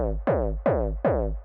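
Three punchy distorted hardstyle kicks, each with a huge EQ notch carved into the middle, hit in an even rhythm, each a loud booming thump with a falling pitch sweep and a gritty tail.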